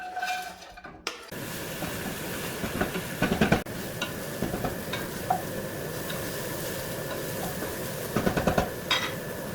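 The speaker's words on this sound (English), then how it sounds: "I'm going to just tip that in and saute the onion" Chopped brown onion sautéing in oil in a pan, a continuous close sizzle with occasional clatter of stirring, after a brief thump as it goes in.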